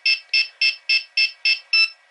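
Seven evenly spaced electronic beeps, loud and close with no talk, come from the telemetry screen of a WLToys V911 micro helicopter transmitter as it switches on.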